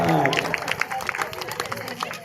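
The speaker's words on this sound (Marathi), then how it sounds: "टाळ्या वाजवा जरा" An audience at a Bhagavat Katha religious discourse claps in a steady rhythmic beat, mixed with a voice speaking or chanting over it.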